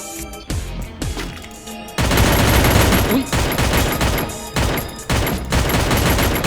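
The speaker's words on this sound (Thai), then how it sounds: "ยิงแล้วพี่ยิงแล้วมันยิงหลังผมแล้วยิง" Rapid, dense automatic gunfire from a video game, loud and continuous bursts filling most of the clip after a quieter opening with scattered shots.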